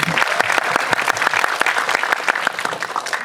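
Audience at a film stage greeting in a cinema claps hard and steadily, dense, close, loud applause filling the space with rapid overlapping hand claps and a light crowd murmur underneath.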